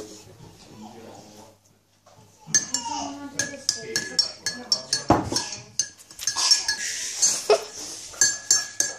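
Sugar cubes are stirred into a drink with a spoon, a quick run of close, bright clinks and taps against the glass after a quieter moment.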